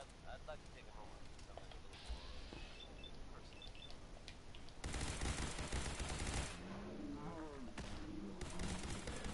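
Heavy weapon fire in Fallout 4, a sustained burst of loud gunfire that swells in the middle of the clip amid ongoing game noise, with someone talking over it.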